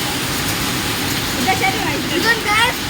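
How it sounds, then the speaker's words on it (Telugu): Hailstones fall during a storm in Anantapur, a dense, loud, hissing patter with scattered sharper impacts close by. "వడగడ్డలు పడుతున్నాయి"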